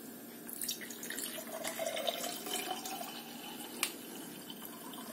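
Wine caipirinha strained into a glass, a faint trickle and splash of liquid pouring with a few small drips and clinks, close and quiet with no talking.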